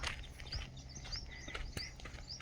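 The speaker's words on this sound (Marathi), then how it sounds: "पक्ष्यांचा किलबिलाट" Faint, scattered bird chirps and tweets in the misty morning air near the Narmada river at Nareshwar, a few high calls spread over a low, steady background hum.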